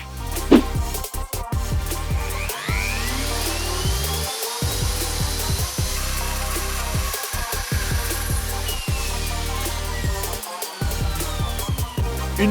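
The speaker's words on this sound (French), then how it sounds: "La finition à la défonceuse" A wood router finishes the edges of panels for a GT40 replica build with a high, steady whine that rises and falls as it moves along the work, broken by several short pauses, loud and close, with no speech.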